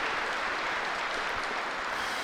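Crowd applause after a shot at an ASA Pro/Am archery tournament, a steady broadband patter of clapping lasting a couple of seconds at moderate volume, with no speech over it.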